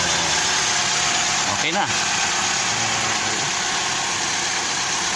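A car's engine runs at a steady idle after the smart key wiring that caused a no-start fault has been repaired. The rumble is loud and close, with a brief spoken remark over it.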